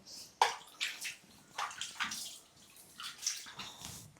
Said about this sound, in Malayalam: അധിക ചൂടിലൊന്നും ഇവനെ കുളിപ്പിക്കലില്ല കൈ ഇളം ചൂട് വെള്ളത്തിലേ കുളിപ്പിക്കലുള്ളൂ